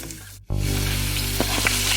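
Food drops straight into hot oil after a brief hush, and a loud, dense sizzle erupts and holds steady, with a couple of small pops.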